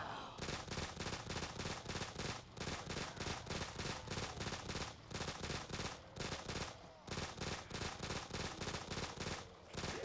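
Rapid automatic gunfire in a zombie-shooting video game, with loud sustained bursts broken by short pauses and repeating steadily throughout, and no talking.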